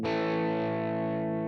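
An electric guitar through a Line 6 POD X3 Live on a Plexi Jump Lead amp model with a 1967 4x12 Greenback cabinet, lead setting and gate, rings out one sustained distorted chord that slowly decays, with no talk.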